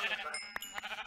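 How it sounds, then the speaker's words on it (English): Sheep in the Minecraft video game give a couple of short, close bleats amid light game ambience. "Sheep!"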